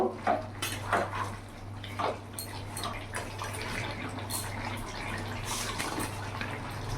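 Fried paneer going into a pan of simmering potol curry and being stirred in, with a few clinks of a spoon against the pan and soft wet stirring and bubbling, fairly quiet.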